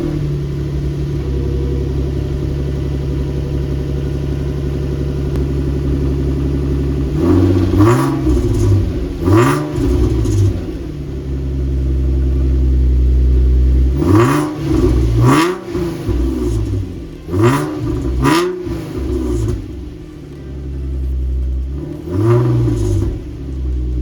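A Nissan 350Z with a newly fitted aftermarket exhaust idles with a deep steady rumble, then is blipped through several sharp revs in clusters, each rising and falling quickly, loud and close.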